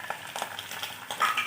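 Ginger-garlic paste drops into a pan of browned frying onions for a prawn malai curry, giving a soft sizzle with brief stirring scrapes, fairly quiet and close, no talking.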